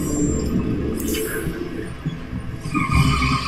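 Car tires skid and screech in a Rise of the TMNT cartoon scene, a loud squeal sweeping over a busy mix of engine hum and other soundtrack noise.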